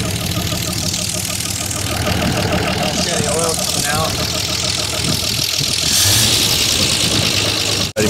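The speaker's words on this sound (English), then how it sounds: "That is one sweet running truck." A 1961 Chevy ranch truck engine, abandoned 38 years, runs steadily and loudly throughout, with a rough mechanical chug, while someone talks over it near the end.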